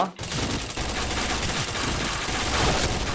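Rapid APC9 gunfire in the Point Blank shooter game, a dense continuous burst of shots that runs almost unbroken for the whole stretch, loud and close after a brief gap at the start.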